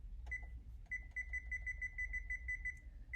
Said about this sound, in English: So set my timer.